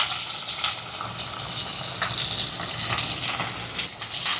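Mustard seeds, green chili, garlic and shallots sautéing in hot oil, a steady loud hiss and sizzle with a few crackles throughout, no voices.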